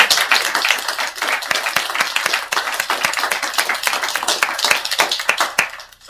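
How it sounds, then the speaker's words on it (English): A conference audience gives a round of applause at the close of a Q&A session, with crisp, close hand claps forming a loud, continuous patter that thins slightly near the end. "So let's have a round of applause for all of us."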